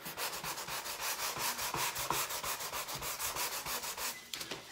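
Rhythmic back-and-forth scraping of a sanding block on wood, steady strokes repeating about four times a second, close and fairly loud.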